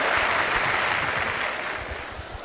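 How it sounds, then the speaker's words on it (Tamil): Studio audience at a Tamil television talk show clapping in a dense, steady wave that stays loud and close throughout, easing slightly toward the end. "இது கைதட்டுறத"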